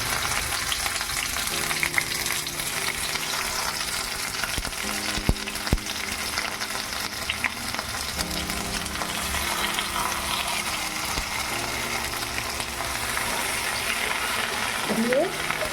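Fish patoori parcels wrapped in gourd leaves frying in a little oil in a wok, a steady close sizzle and crackle running throughout, with faint clinks near the end.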